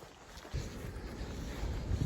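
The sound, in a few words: wind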